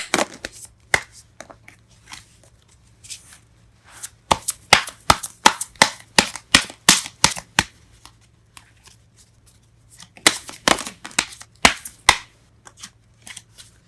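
Tarot cards are shuffled and drawn at close range in quick bursts of crisp flicks and riffles, with quiet gaps between the bursts and a low steady hum underneath.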